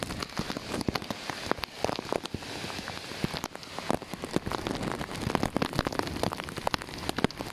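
Heavy typhoon rain pours steadily and loudly, with dense crackling drops hitting nearby surfaces throughout and no voices.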